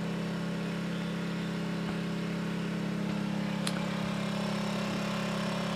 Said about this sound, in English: we're running the generator a little bit.